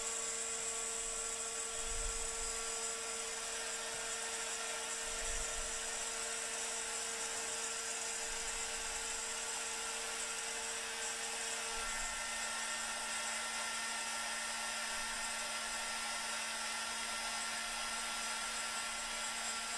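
A milling machine cuts a sheet of aluminum with a steady, high-pitched whine and constant hum, heard at a low, even level throughout with faint low thumps and no speech.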